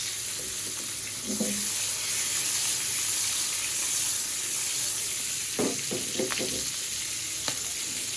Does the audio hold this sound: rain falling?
no